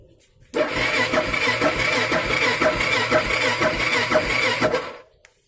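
A Suzuki XF650 Freewind motorcycle, freshly rebuilt, cranks on its starter in a steady rhythmic whir for about four and a half seconds without catching, close and clear, no talk.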